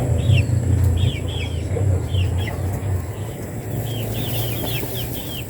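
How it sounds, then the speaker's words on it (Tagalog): Pet chickens cluck in short repeated bursts at moderate distance over a steady low outdoor hum, the calls coming in loose clusters throughout. "Dito rin yung ating alagang mga manok."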